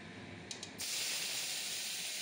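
Rui fish seasoned with salt and turmeric dropped into hot oil, a quiet background giving way to a sudden, steady, loud hiss of frying that continues to the end.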